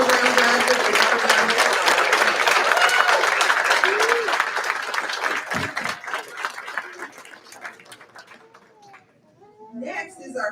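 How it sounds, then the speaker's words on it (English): A crowd at a 2024 college graduation ceremony applauds honors program graduates, dense clapping that stays loud for several seconds, then thins out and fades, with scattered voices and calls coming through toward the end. "applause"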